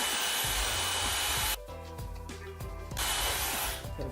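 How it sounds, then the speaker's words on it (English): A handheld blow dryer blasts loudly while drying hair. Its steady whoosh changes tone partway through as the airflow shifts against the hair, then returns to the full roar. "always point the blow dryer downwards on the hair,"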